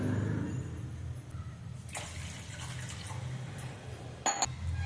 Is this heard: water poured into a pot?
yes